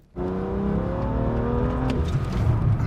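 A car on a drift training circuit powers out of a corner, engine note rising steadily as it accelerates, loud and close with a continuous rumbling drone.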